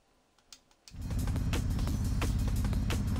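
A Toyota Supra in Forza Horizon 4 starts up after a few faint clicks, then a loud, steady low engine drone holds on without a break.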